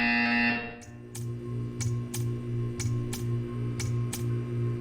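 A steady electronic buzzer from the video game Portal 2 drones on, joined after a brief tonal intro by a series of sharp, evenly spaced clicks, loud and up close with no talk.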